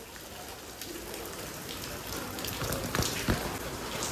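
Steady rain falls and patters on a surface, with a few sharper splashes toward the end. No voices are heard.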